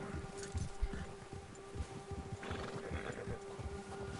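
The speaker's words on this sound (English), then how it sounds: "Quando um predador está por perto, seu cavalo fica agitado." A nervous horse whinnies in Red Dead Redemption 2, its cries and snorting mixed with hoof clops over a steady low hum of game ambience, heard at moderate distance and fairly quiet.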